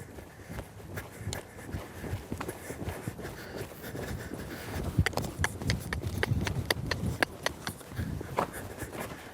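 A colt being started under saddle trots forward, its hooves striking in a steady clip-clop rhythm that grows louder and sharper midway, with faint background noise and no talk.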